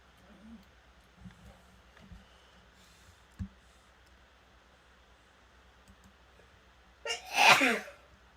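Faint clicks and soft shuffling give way to one loud, sharp sneeze near the end, close to the microphone.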